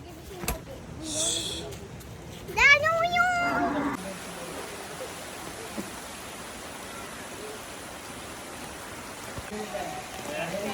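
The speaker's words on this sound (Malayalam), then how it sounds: "മഴ പെയ്യുന്നല്ലോ" Rain falling in a rural village, a steady soft hiss that continues alone after a cat meows and a voice is heard briefly at the start.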